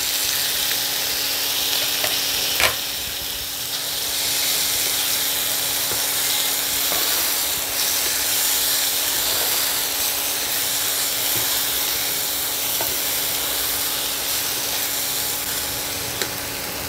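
Shrimp frying in a pan with coconut, mustard and green chili paste just added, a steady close sizzle and crackle running throughout with a couple of sharp spoon clicks against the pan.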